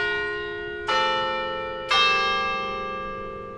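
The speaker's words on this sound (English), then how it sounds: "The carillon in the Albritton Bell Tower has been chiming away since 1984." Carillon bells in the Albritton Bell Tower ring out two clearly struck notes about a second apart, each tone bright and sustained with a long, slowly fading ring.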